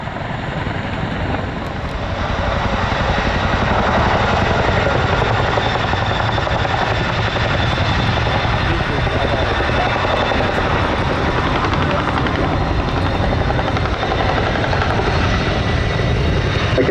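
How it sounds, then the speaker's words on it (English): A helicopter at the Duxford summer airshow returns to drop off an underslung load. Its rotor and engine roar loud and close, swelling in the first couple of seconds and then holding steady throughout with no talk. "aircraft now returns to drop off the underslung load and complete what is called an operational drop-off"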